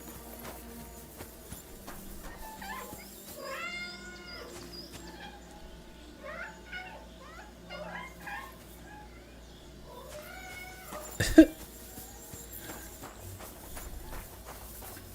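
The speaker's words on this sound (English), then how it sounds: "There's a cat here too. There's kitties everywhere." A cat in the medieval video game Kingdom Come Deliverance 2 meows several times in a row with rising, plaintive calls, while faint hoofbeats and footsteps move in the background.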